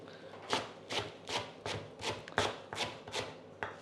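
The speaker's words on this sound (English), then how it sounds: "Quick chop through." A knife chops fresh coriander on a board in a steady run of about nine crisp, evenly spaced thuds, close and fairly quiet.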